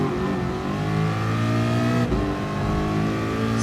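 A car engine in Gran Turismo Sport holds a loud, steady high rev, its harmonic drone sustained throughout with a brief dip and shift midway, like a gear change.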